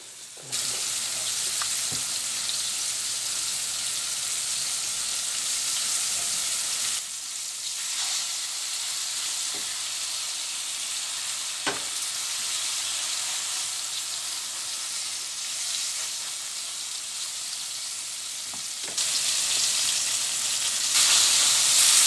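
Cube steaks seasoned with pepper and garlic powder fry in a pan, giving a loud, steady hiss of sizzling fat with occasional clicks and scrapes, swelling louder near the end, no voices.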